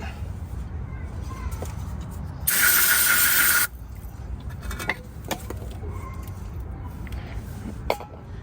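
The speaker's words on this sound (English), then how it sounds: "I'll go ahead and give it a little spray." A single sharp aerosol spray hisses loudly for about a second onto rear brake parts of a Honda Pilot, set among quieter clicks and handling noises in a workshop.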